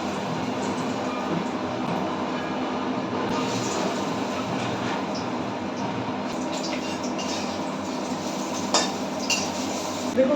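Small fritters (bora) fry in hot oil in a kadai, making a steady, close sizzling hiss with a few sharp clinks of utensils near the end.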